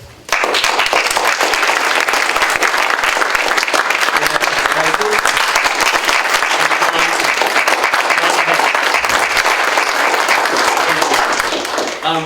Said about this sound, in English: You will have a chance to applaud at the conclusion of the program, as well as right now